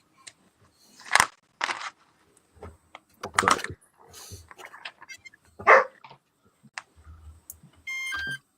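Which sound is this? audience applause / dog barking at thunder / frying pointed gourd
dog barking at thunder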